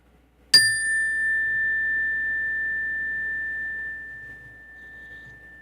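A single clear bell strike rings out, then its bright tone hangs and fades slowly over several seconds in a quiet room.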